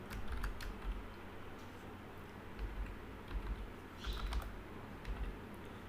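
Fingers type on a computer keyboard while a MongoDB update query is written: quick, light key clicks come in uneven bursts over a quiet background, close and soft.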